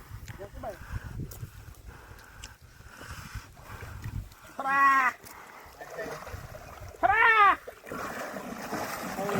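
Two loud, drawn-out moos from a large bull being swum in a big weir ring out a couple of seconds apart, close by, over splashing water and a low murmur of voices.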